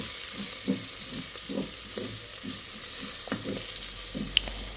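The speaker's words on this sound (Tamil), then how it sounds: "இதையும் நல்லா வதக்கி விட்டுக்கலாம்." Mint leaves and green chillies sautéing in hot oil for a village-style mutton curry, a steady close sizzle broken by repeated scraping stirs of the spatula, with no voices.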